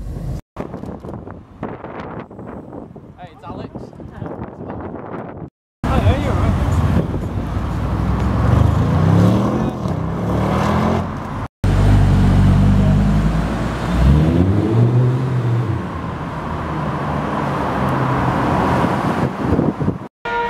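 Mercedes ML63 AMG driving in city traffic, a loud engine roar with rising and falling tones, buffeted by wind on the microphone, broken by abrupt cuts, with talk in the background.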